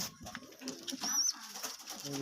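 A domestic pigeon coos softly at close range, with soft bursts of low calls and a brief high chirp, fairly quiet.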